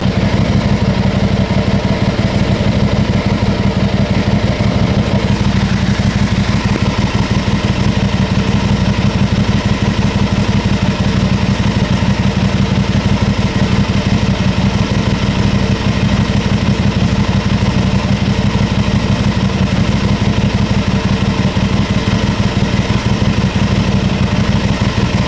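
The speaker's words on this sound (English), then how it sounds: "I'm going to run the bike for about 10 to 15 minutes, let it warm up" An Aprilia RS660 sport bike idles steadily while warming up after repair work, a loud, continuous engine hum that holds an even pitch from start to finish with no talking.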